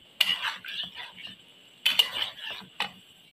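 Chicken karahi stirred in a pan over a medium flame, with bursts of ladle scraping and clinking against the metal, close and fairly bright, broken by short quiet gaps.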